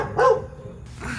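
A guard dog at a restaurant parking lot at night gives a single short bark, fairly near, followed by quiet background noise.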